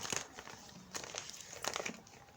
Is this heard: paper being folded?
yes